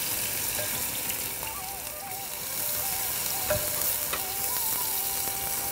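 Onion pieces frying in oil for Bagara mutton palav in a hotel kitchen, a constant loud sizzle with faint stirring, a few clinks and light tonal squeaks underneath.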